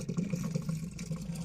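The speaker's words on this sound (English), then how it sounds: "I think we will just open up all these faucets to make sure the water drains out good" Water runs steadily from an open faucet in an RV bathroom, a close, continuous splashing flow with slight gurgling texture.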